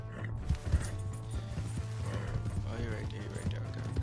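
A horse's hooves pound rhythmically in the video game Red Dead Redemption 2, with mechanical tack rattles and a low engine-like hum underneath, while someone talks over the ride.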